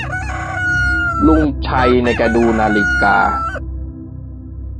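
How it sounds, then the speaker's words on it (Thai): A rooster crows loudly and close by in one long crow made of several parts, while someone narrates over it. "ครู่หนึ่งก็ได้ยินเสียงไก่ขัน"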